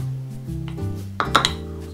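A spoon stirs a peanut sauce of peanut butter and soy sauce in a bowl, with soft scraping and a few bright clinks against the bowl near the end.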